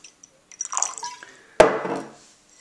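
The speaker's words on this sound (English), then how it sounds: "I'm pouring Angus's wine" Wine is poured into a glass: a gentle trickle of liquid, then a sharp glassy clink and a brief splashing pour that fades out, close and fairly quiet.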